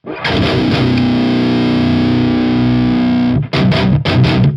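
Electric guitar through a Hughes&Kettner Tubemeister 18 tube amp with the gain turned down, playing a loud sustained distorted chord that rings for about three seconds, then a few short choppy muted stabs.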